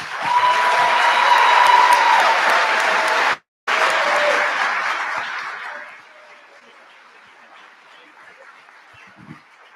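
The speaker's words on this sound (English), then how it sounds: "Can we give them one more round of applause?" Audience applause after a student all-county orchestra concert: loud, dense clapping that breaks off sharply for a moment, resumes, then fades to a quiet hall with scattered faint noises.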